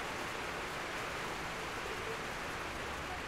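A torrential downpour roars in Monster Hunter World: Iceborne, continuous broadband rainfall held at an even level throughout, with no talk and no other sounds cutting through.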